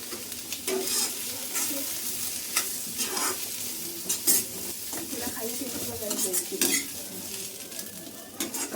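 Onion frying in a little oil in a pan for spicy chicken sukka, with a steady close sizzle broken by repeated scraping and clinks of a spatula stirring against the pan.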